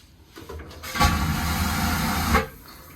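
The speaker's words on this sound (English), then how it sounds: "That is the sound of a cruise ship toilet." A cruise ship vacuum toilet flushes with a sudden loud suction whoosh that holds steady for about a second and a half, then cuts off, heard close and alone.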